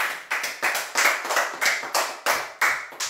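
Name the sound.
congregation applauding for the word of God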